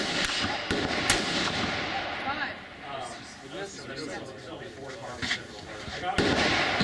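Rifle shots on a practical rifle match stage, loud cracks and blasts mixed with continuous speech and outdoor clatter throughout, dense and close.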